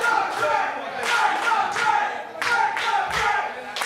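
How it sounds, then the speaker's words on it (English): Wrestling crowd at an RWA Hype show cheering and clapping for Frank the Crank, with rhythmic bursts of chanting and hand claps rising and falling in waves, loud and lively. "This crowd is hot for Frank the Crank"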